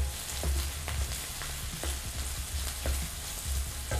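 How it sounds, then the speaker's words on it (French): Onions fry in olive oil with a quiet, continuous sizzle, broken by soft, regular knocks and scrapes as they are stirred in the pan. "Pendant que les oignons sont en train de blondir"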